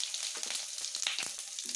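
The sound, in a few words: asafoetida added to sizzling spiced oil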